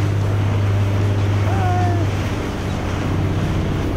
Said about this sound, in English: here we are on the front deck of the whale watching boat